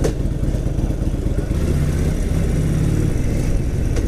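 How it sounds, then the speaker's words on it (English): Harley-Davidson Sportster motorcycle on a short test ride, a continuous loud, close engine rumble with low throbbing and wind noise throughout, with no talking. "I'm gonna do a quick, another quick spin just to make sure I got a good feel for the clutch and throttle."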